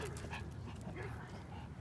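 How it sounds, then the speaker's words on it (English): A dog passes outdoors, giving faint panting and soft whimpers under low background noise, with people talking nearby. "Here comes somebody with a dog."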